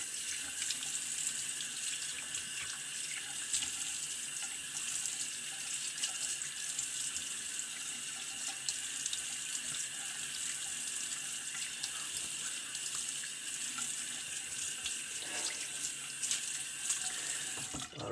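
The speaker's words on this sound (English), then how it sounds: "Let me get a quick rinse here" Tap water runs steadily into a sink while a 1910 Dandy vintage safety razor is rinsed of whiskers, a constant close hiss of flowing water with no talking.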